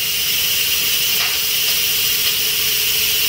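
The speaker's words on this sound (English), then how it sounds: "Have to let your pressure cooker let all that steam out." Pressure cooker valve switched from sealed to venting, releasing a steady, loud, close hiss of escaping steam that holds constant without pause.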